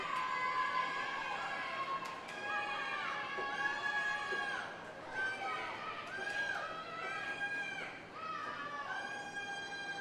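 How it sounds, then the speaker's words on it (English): Crowd cheering and shouting at a girls' high school swim meet (Moorhead vs Fargo Shanley) in an indoor pool, a continuous echoing wall of voices and whistles lasting throughout, loud and steady. "Kate Carvel has her own cheering section over there."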